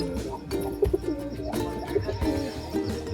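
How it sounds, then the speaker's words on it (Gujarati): Pigeons in a coop coo in soft, repeated throaty phrases, several birds overlapping at close range with occasional chirps, over a low rumbling background. "પઠ્ઠા જેવું કબૂતર."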